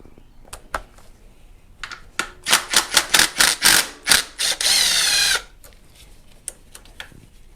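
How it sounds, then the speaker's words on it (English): A ratchet wrench loosens a 10 mm ground bolt on a 2010-2015 Toyota Prius engine: a burst of rapid, loud clicks, then a short continuous whirring ratchet spin, with scattered faint clanks before and after. "So we need to unplug this ground, 10 millimeter."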